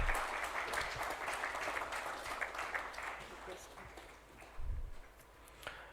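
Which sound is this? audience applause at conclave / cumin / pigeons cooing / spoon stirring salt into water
audience applause at conclave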